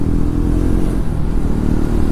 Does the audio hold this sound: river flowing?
no